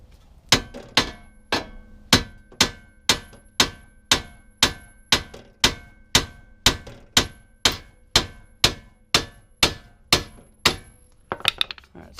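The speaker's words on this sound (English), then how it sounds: "a few good smacks right there on the joint with the hammer" A hammer strikes a car's tie rod joint about twenty times in a steady, evenly spaced rhythm, each blow sharp and ringing briefly, close and loud.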